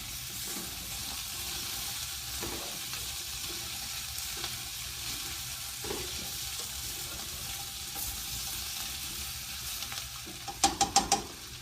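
Elephant garlic and potato pieces sizzle softly in a hot pan as they are stirred, a steady frying hiss with occasional scrapes and a quick cluster of sharp clatters near the end.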